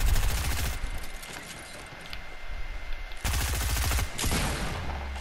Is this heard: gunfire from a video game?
yes